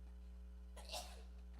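A single short sneeze bursts out over a steady low electrical hum, fairly faint and quick.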